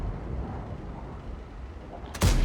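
A tank cannon fires a HEAT shell in World of Tanks from the Kunze Panzer, one sharp loud blast near the end after a low rumbling battle ambience.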